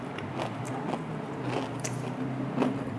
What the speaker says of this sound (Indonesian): Kita tes kriuk dulu deh, tes kriuk.